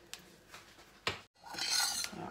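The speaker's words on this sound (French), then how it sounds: "Voilà, on mélange." A spoon scrapes and clinks against a pot while sugar is stirred into water, a few brief taps followed by a longer swishing rasp, close and quiet.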